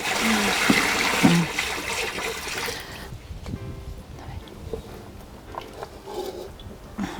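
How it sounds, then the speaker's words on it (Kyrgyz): Cold water gushes steadily into a kazan cooking pot for a few seconds, then stops, leaving quieter handling noises and faint trickles. "Казанга сууну куябыз. Муздак эле суу болуш керек."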